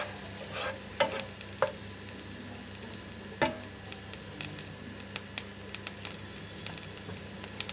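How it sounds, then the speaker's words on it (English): Ginger garlic paste dropped into very hot oil, crackling in a steady close sizzle with sharp pops and spatters throughout, no talking. "If you add the ginger garlic paste when the oil is very hot, this is what happens"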